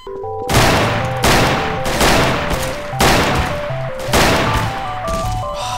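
Rapid, loud pistol fire from a Beretta in the video game Garry's Mod, a close run of repeated bursts of shots with game music tones underneath.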